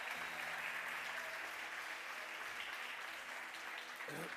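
A church congregation applauds continuously for several seconds, a dense, steady clapping that fills the hall at moderate volume, with no one talking.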